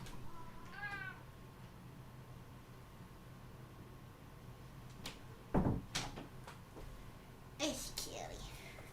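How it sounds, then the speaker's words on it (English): A cat meows once near the start, a short rising call, followed later by scattered knocks and clatter like a cupboard or door in a quiet room. "Oh, did I hear meow? I did hear meow."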